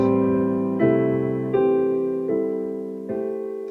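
Solo piano plays a short run of open, spread jazz chords in drop 2 voicings with altered notes, each one struck cleanly and left to ring before the next.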